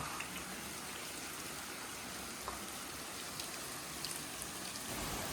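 Rain pours down steadily in Mawsynram, Meghalaya, in an even, continuous wash of hiss with occasional soft drops standing out, no voices.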